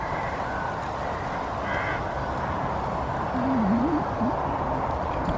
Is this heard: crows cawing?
yes